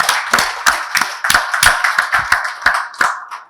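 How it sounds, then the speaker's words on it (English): A round of applause for a guest on a talk show, heard as a series of sharp, separate hand claps in an irregular rhythm, close and fairly loud, fading at the end. "Let's have a round of applause for Abhijit."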